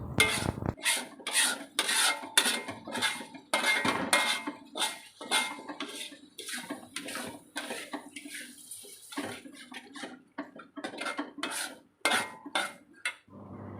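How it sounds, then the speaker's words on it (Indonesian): Tamarind water mixture being stirred for a crispy potato snack, giving repeated scraping, rasping strokes of a utensil against a bowl in a steady, close rhythm that continues through most of the stretch. "Nah, lanjut di sini aku aduk-aduk ya supaya tercampur merata."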